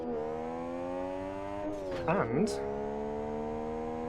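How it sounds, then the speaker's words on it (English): A six-cylinder Porsche 911 engine in Live for Speed revs in a steady high drone, dips and climbs sharply mid-clip with a brief squeal, then settles back; a voice speaks briefly over it. "it sounds like a 6-cylinder as well"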